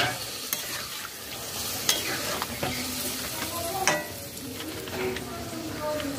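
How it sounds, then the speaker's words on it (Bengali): Hot water goes into frying spices in oil for a Bengali-style vegetarian cauliflower roast: a low, steady sizzle with intermittent spoon scrapes and clinks against the pan, fairly quiet and close. "গরম জল অ্যাড করে দেব।"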